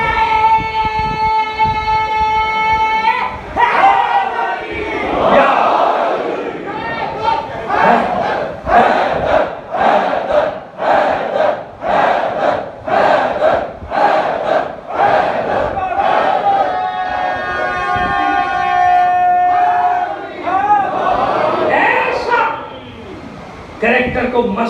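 A large crowd at a Shia majlis in Lahore raises loud rhythmic religious slogans, voices answering in repeated bursts, with a leader's sustained chant-like calls opening and closing the passage.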